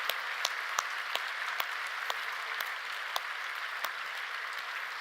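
Applause from a congregation at a Friday night church service, welcoming the youth group: a steady, moderately loud patter of many hands with a few sharper individual claps standing out, and no talking on top.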